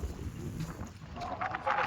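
Steady outdoor wind at a farm rumbles and gusts across the microphone, a low continuous roar with some faint higher hiss, no clear voices.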